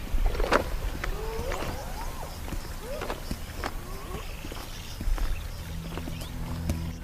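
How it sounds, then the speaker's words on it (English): Hooves of thirsty zebra thud and shuffle over ground as they draw near, with occasional snorts and squeals over a rustling outdoor background. "Thirsty zebra, from the direction the lions expected."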